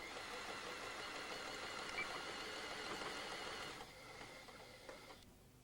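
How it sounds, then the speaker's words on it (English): A Memory Craft 7000 sewing machine runs in a steady, fast mechanical whir while reverse backstitching, alone and fairly close, then slows and quiets before stopping near the end. "At the end of a seam, you can press the reverse button to backstitch."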